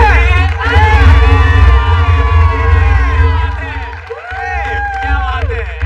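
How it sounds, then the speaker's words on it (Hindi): A crowd at a live comedy-style show cheers, whoops and claps for the final act, loud and lively with rising and falling voices mixed into the noise. "Make some noise for the final act."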